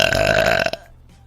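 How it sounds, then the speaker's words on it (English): A loud, drawn-out burp fills most of the clip, harsh and raspy, then cuts off sharply and leaves quiet room tone. "crazy ass burps"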